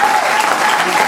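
A church congregation applauding loudly to acclaim the Lord, a dense, steady roar of clapping that fills the whole moment, close and full.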